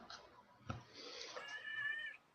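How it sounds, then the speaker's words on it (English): A house cat meowing close by, a single drawn-out, rising meow lasting over a second, fairly faint with a short thump just before it. "my cat's here and he's meowing at me."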